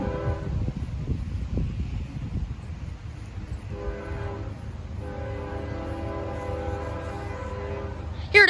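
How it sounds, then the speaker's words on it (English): A CSX freight train rolls past a crossing on the Peninsula Subdivision, its horn sounding in long tones over the rumble of wagons and wind, loud and close to the end. "we got the CSX coming right now"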